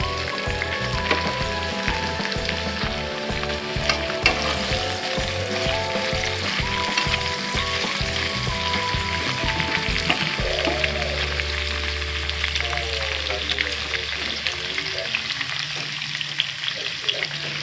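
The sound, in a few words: beef frying in a pan with garlic and onion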